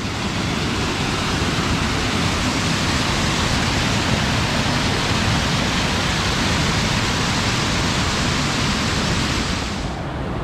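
Constant roaring rush of one of the Red Eye 48 Waterfalls (Akame 48 Falls), Japan, dense and unbroken, filling the whole stretch at steady loudness.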